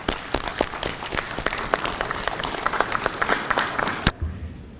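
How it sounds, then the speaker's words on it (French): Applause rings out in a senate chamber during a session on economic diversification: dense, even clapping from many hands that fills the room, then cuts off abruptly near the end. "Je crois qu'on peut l'applaudir, non?"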